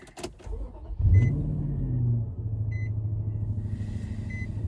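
A 2007 Infiniti FX45 with its 4.5-liter V8 cranks briefly and fires up with a loud rising roar, then settles into a steady idle rumble while short chime beeps sound intermittently inside the cabin.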